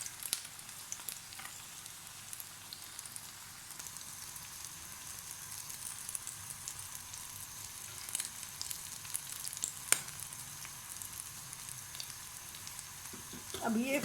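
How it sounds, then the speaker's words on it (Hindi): Beef resha kebabs frying in a pan, a steady soft sizzle holding at low, even level throughout with a sharp tick near the end and a slight rise in the final seconds; no voice. "अभी एक तरफ से फ्राई होंगे फिर मैं दूसरा पलट दूँगी दूसरी तरफ"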